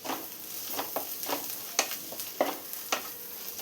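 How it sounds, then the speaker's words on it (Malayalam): Spices with turmeric and pepper powder are sautéed in a pan for egg kurma, a quiet sizzle broken by rhythmic stirring scrapes about every half second, close, with no talking. "അതുവരെ ഒന്ന് ജസ്റ്റ് വഴറ്റി കൊടുക്കാം."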